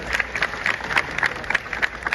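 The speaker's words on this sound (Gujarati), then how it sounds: "પૂજ્ય મહંત સ્વામી મહારાજને તાળીઓના નાદથી વધાવીએ છીએ." A crowd applauds to welcome Pujya Mahant Swami Maharaj at a religious gathering, a short burst of rhythmic clapping at moderate volume with no talk over it.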